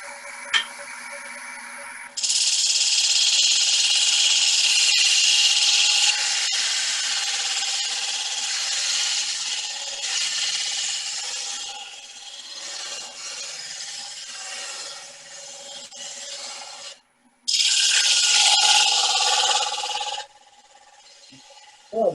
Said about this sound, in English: It's an old gouge that I turned into a beading tool.